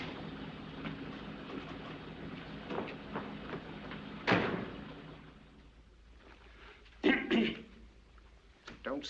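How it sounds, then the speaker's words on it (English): A man coughs and clears his throat in an older film scene, giving a few short, rough bursts that stand out from a quiet room. "Don't stand there coughing"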